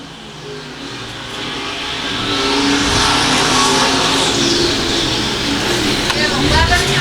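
Stock cars race in an A feature on a dirt track, engines roaring and revving as the pack passes, swelling louder after two seconds and staying loud and near, with an announcer talking over the cars.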